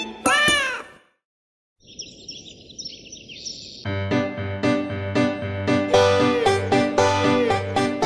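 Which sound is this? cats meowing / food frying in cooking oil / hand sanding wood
cats meowing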